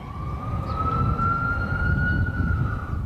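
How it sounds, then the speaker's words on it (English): An ambulance siren wails steadily from far off over a Midtown Manhattan street, a single drawn-out tone rising and falling slightly above a low rumble of traffic. "A siren from an ambulance off in the distance."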